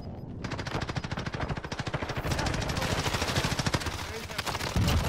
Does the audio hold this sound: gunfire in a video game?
yes